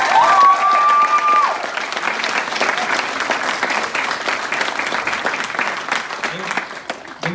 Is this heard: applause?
yes